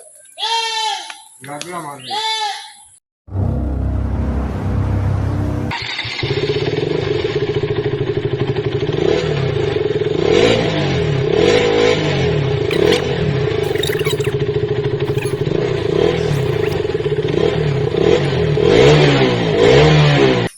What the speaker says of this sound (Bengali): বেটা এ তোমার বাইক নাও, চালাও